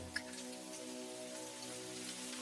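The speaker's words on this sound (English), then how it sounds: "Heavy raindrops thunder against the fabric of the umbrella." Heavy rain beats on the fabric of an umbrella on a dark, windy morning sidewalk, a dense and steady patter that fills the whole moment with no voices.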